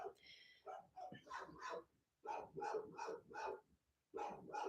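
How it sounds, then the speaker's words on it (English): A dog named Arthur barks in a series of loud, close woofs, grouped into bursts with short pauses between them, no voices over them. "Arthur's barking."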